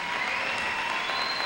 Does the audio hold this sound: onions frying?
no